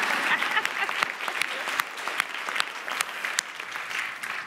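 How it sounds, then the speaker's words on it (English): Sustained audience applause at a conference, dense steady clapping from a large crowd with scattered sharper claps standing out, continuing throughout at even loudness. "Y'all can clap"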